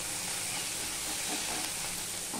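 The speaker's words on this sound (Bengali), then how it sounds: "গ্রেট করা বা বাটা পেঁয়াজ রসুন ভালো করে ভাজতে হয়" Grated onion, garlic and chili fry in a pan with a steady, dense sizzle and hiss that holds at an even level throughout, close by and with no talking.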